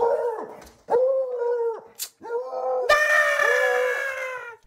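A dog barks and howls repeatedly at an alligator, a series of loud, close, drawn-out yelping cries with short gaps between them.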